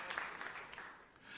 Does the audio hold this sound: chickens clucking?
no